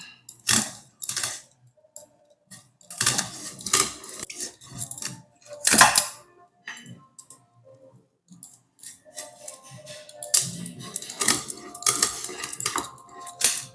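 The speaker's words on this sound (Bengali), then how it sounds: "বটি নিয়েছি একটা বড় বটি আর বড় সাইজের মাছ আছে কাতলা মাছ তিন কেজির ওজন এবার আমি সুন্দর করে কেটে নেব" A large three-kilogram katla fish being cut on a big boti blade at home, heard as sharp metallic scraping and chopping bursts at close range, separated by short quiet gaps, with no talking.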